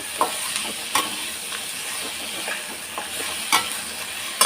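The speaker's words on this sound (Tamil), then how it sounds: "நல்லா வதங்கிடுச்சு. பாதி வெங்காயம் தான் வதங்கியிருக்கு." Onions and dried chilies sauté in a pan for a drumstick-leaf stir-fry, with a steady close sizzle. Sharp scraping clicks from stirring come at irregular intervals, and no voices are heard.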